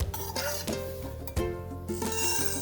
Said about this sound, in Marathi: मंद आचेवर हळूहळू छान असं भाजून घ्यायचं अर्धा वाटी साबुदाणा भाजून घेऊया अर्धा वाटी पोहे